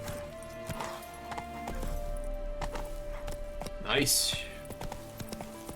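Horse hooves clip-clop in The Witcher 3 as the horse gets moving, a steady trotting rhythm under background game sounds, with a brief voice speaking and a louder swoosh near the end.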